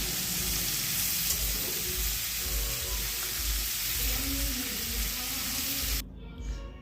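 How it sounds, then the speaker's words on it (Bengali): Steady loud sizzling of young jackfruit frying in hot oil in a kadai, with occasional stirring scrapes, cutting off near the end to a quieter hiss. "ইঁচড়টা ভালো করে এর মধ্যে আমি ভেজে নিচ্ছি"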